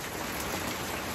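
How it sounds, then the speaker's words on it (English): Heavy rain falling on a caravan fitted with a new gutter system, a dense, even hiss of drops drumming steadily and loudly with no voices. "I've installed this new gutter system thing on the caravan and started pissing down with rain"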